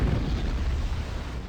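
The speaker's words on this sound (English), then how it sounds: "Ignition." A rocket engine ignites in Kerbal Space Program with the RP-0 mod, a loud, steady, broadband roar that fills the whole short stretch without letup, with no voices.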